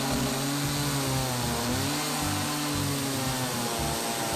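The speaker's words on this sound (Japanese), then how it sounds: "もうチェーンソーで落とすことにしました" A chainsaw cuts through a thick monkeypod wood slab during traditional table-top timber work, its engine running loud and close with a steady high whine, rising and falling in pitch as it bites through the wood.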